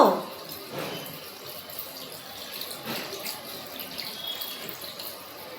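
A tap runs steadily into a sink as a small child washes hands and face, a continuous nearby splash of water with a faint voice in the background.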